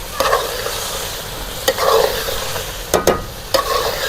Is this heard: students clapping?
no